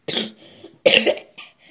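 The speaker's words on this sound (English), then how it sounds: "I just got a bit of a cough" Two sharp coughs from someone close by, followed by a softer throat-clearing rasp, in an otherwise quiet room.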